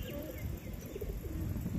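A pigeon coos softly amid wind noise at a home loft, low murmuring calls partly masked by steady gusts, faint and close.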